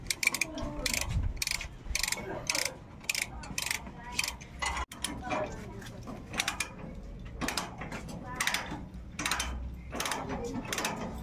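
Wrench working a grab bar bolt on a Honda TMX 125 Alpha motorcycle with sidecar, giving rapid repeated ratcheting clicks in bursts with short pauses, close and fairly quiet.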